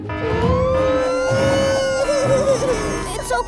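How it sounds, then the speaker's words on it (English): A wailing ambulance siren rises and falls loudly and close by, with shouting voices and background commotion mixed underneath. "The ambulance is here."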